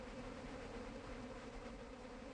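Swarming insects buzz in a dense, steady drone in the video game Haunted Cities: Volume 2, a continuous hum with no break and no voices, heard close and full throughout.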